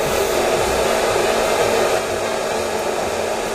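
A Fresh Roast SR500 coffee roaster runs on its low heat setting, giving a continuous loud airy whoosh like a hair dryer that dips slightly partway through, with no voices.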